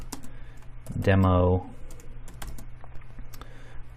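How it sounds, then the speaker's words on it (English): Light clicks of typing on a computer keyboard, scattered sharp taps spread across a few seconds, with a short spoken word near the start. "So I'm just going to type in fitness"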